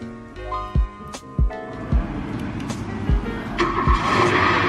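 A Ninebot Gokart Pro electric go-kart with added speakers is switched on, giving a series of synthetic engine-start and revving sound effects: several punchy low thumps, then a rising, sustained motor whine.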